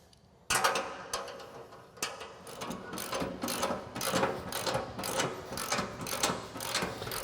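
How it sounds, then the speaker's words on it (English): A ratchet tightens the lower blade mount bolts on a Storm Chaser ATV snow plow, giving several close bursts of rapid clicking with no talking. "Now we can go ahead and tighten up the lower blade mount bolts also."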